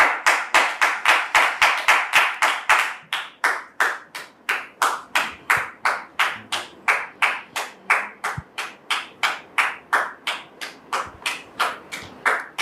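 Rhythmic group clapping from a studio audience welcoming guests onto a talk show set, steady regular claps close and loud throughout with no talk.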